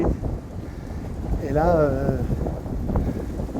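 Strong wind buffets the microphone at the harbour of Canet-en-Roussillon, a continuous low rumbling roar that runs under someone speaking French throughout.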